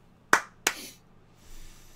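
Two sharp hand claps, about a third of a second apart, close and fairly loud, then a faint hiss of room noise; nobody speaks.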